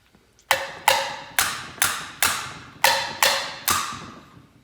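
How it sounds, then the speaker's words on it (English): A Chevy small block cylinder head being struck on the valve edges to knock the keepers loose: eight sharp, ringing metallic hits at a fairly even pace, each decaying quickly, close and with no talking. "What we used to do sometimes is hit the edge of the valve just to knock them loose from the keeper."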